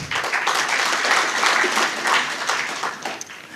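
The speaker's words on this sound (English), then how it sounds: "let's give a round of applause for Philip Dinga" Conference audience at a pan-African youth gathering breaks into sustained applause, a thick, lively patter of many hands clapping at close range that swells and holds for several seconds.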